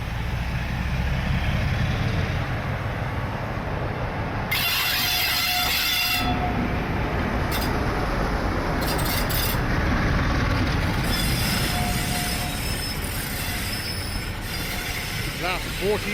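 A Class 47 diesel locomotive train passes through Winchcombe station on the heritage Gloucestershire Warwickshire Steam Railway, a loud, continuous rumble of wagons with bursts of high wheel squeal.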